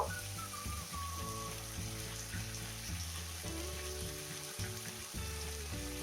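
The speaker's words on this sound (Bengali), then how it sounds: "এবার আমি ভেজে রাখা বড়াগুলো দিয়ে দেব" Fried matar dal fritters dropped into sizzling cooked-down spice paste for a pumpkin greens dish crackle with a steady frying hiss, heard under prominent background music.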